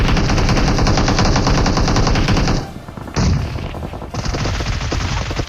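Rapid automatic gunfire from the battle-royale mobile game BGMI rattles loudly in dense bursts, pausing briefly in the middle before the shooting resumes, with no talk over it.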